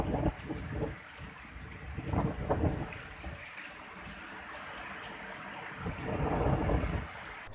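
Heavy rain and gusting wind from a cyclone in the villages of Lakhtar, Surendranagar, a dense roaring wash with low rumbling surges, loud and steady without voices.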